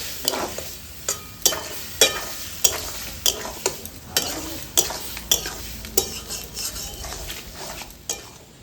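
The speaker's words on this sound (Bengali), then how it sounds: "রাখা সয়াবিনগুলো দিয়ে দিব। অল্প একটু জল দেব।" Soya chunks with a little water, cooked in a pan for a veg chilli chicken dish, are stirred with rhythmic, fairly loud spoon scrapes about twice a second over a constant gentle sizzle.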